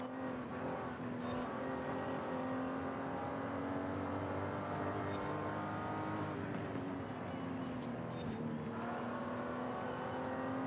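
A 2019 Aston Martin DBS Superleggera in Forza Horizon 5 holds a steady, droning engine note at fairly constant revs, with a slight pitch dip midway and a few brief clicks of gear or tire noise, no voices.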